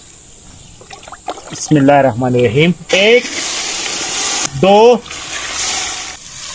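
Water poured into a pot of rice for pulao in a village kitchen gives a steady hissing rush, broken by stretches of someone speaking over it.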